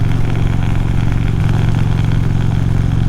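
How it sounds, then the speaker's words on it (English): Loose windshield plastic rattling on an Indian motorcycle while riding, a steady close buzz mixed into continuous engine drone and wind noise without a break. "It's making a little noise right now because that plastic has come loose."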